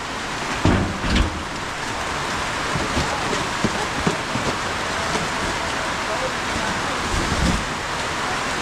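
Rain falls steadily outside in a dense, continuous hiss, with a few louder bumps and thuds near the start and people talking faintly in the background.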